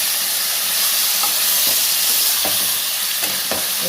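Chilli chicken frying in a pan over a high flame, a steady broad hiss of sizzling oil with a few soft scrapes or stirs breaking through at intervals.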